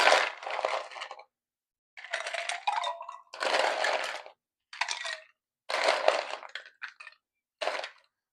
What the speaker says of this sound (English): I'm going to put ice into my wine glass